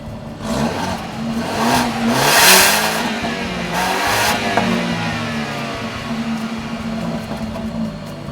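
The 2-liter turbocharged four-cylinder engine of a 2014 BMW 328i xDrive GT runs and revs briefly, swelling to a peak and then settling into a steady whirring idle. No talk is heard.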